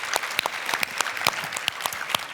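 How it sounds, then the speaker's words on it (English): An audience at a business talk with Rich Dad Company founder Kim Kiyosaki claps together in a brief burst of brisk, close applause, many hands sounding at once. "give yourselves a round of applause"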